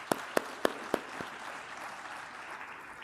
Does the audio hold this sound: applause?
yes